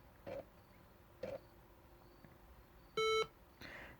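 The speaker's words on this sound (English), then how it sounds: "So it beeps through the internal speaker and a little bit through the external speaker as well." A Linux laptop emits startup beeps through its internal speaker: two short soft blips, then a louder sustained pure tone and a final brief beep, each separated by quiet near-silence.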